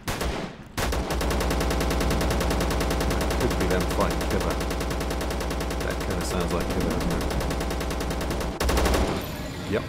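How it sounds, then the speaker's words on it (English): Rapid automatic gunfire from the Zero Sievert video game rattles in a dense, unbroken burst for most of the stretch, loud and close, ending in a brief lull. "I'm assuming you killed whatever it was that you were shooting at."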